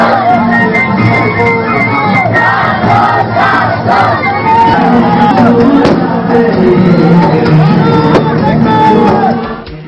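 Large crowd at a Milad un Nabi celebration procession in Wanaparthy, shouting religious slogans in loud, surging unison chants that rise and fall over a steady roar of massed voices.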